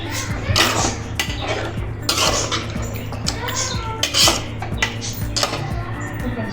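A spoon clinks and scrapes against a metal pot in a rapid, uneven rhythm, close by, with a voice faintly in the background.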